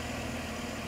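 A Chevrolet Silverado pickup with 47,000 miles sits idling, its engine giving a steady, even low hum heard close with nothing else over it.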